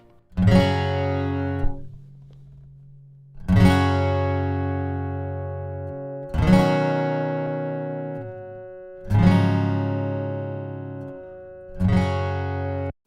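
Acoustic guitar chords strummed one at a time, five in all, raw mic and DI signals, each ringing out for a few seconds before the next, clear and close.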